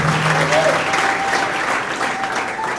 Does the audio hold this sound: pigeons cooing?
no